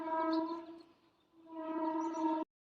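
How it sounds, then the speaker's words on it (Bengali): A train passing Kantridanga sounds its horn in the distance, a steady tonal blast that fades briefly and then swells again before cutting off, with no other sounds around it. "ট্রেনের আওয়াজ শোনা যাচ্ছে, কান্ট্রিডাঙ্গা দিয়ে যাচ্ছে ট্রেন"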